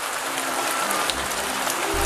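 Heavy storm rain in a cartoon, a dense steady hiss of downpour on surfaces with no break, loud and close throughout.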